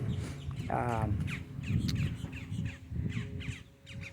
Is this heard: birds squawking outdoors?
yes